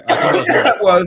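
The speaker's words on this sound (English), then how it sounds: "That's my late night cough." A rough, throaty cough in a couple of bursts, close and loud, sounding close to throat clearing.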